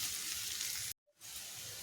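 Ivy gourd and kabuli chana fry in a pan with a steady, soft hiss. A brief total dropout interrupts it midway before the sizzle resumes.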